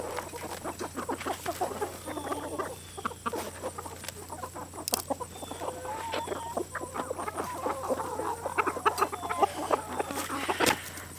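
A farmyard flock of homestead chickens clucks and chatters steadily and fairly close, overlapping calls filling the stretch without a break, with a steady low hum underneath.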